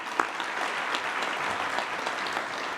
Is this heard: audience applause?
yes